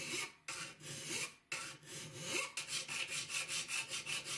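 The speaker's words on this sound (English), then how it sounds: "I put it up in the vise. I'm going to file this perfectly flat and straight as possible." A hand file works a steel scraper held in a vise, rough rasping strokes that start uneven and then settle into a steady back-and-forth rhythm, close and alone.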